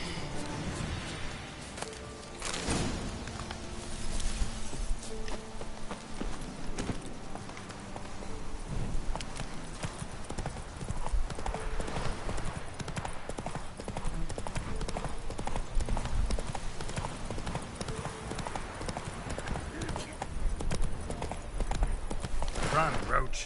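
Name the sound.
horse galloping in video game Witcher 3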